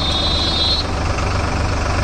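A Sonalika tractor engine, the MM 39 or DI 35, runs nearby with a steady, loud, continuous drone and a faint high whine early on, and no voices.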